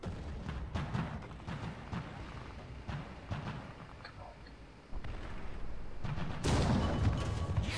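War Thunder tank combat with the 17pdr SP M10 Achilles: several muffled cannon booms and impacts including a shell ricochet, with louder heavy rumbling at the end.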